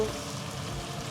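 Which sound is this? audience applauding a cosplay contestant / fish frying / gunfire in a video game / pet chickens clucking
fish frying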